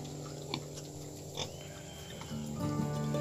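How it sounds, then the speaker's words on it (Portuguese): Pigs on a ranch holding about 80 animals grunt and oink steadily at close range, with several animals heard together and a denser, louder burst of grunting near the end. "Aqui é a porcaiada do Rancho Isa Marques."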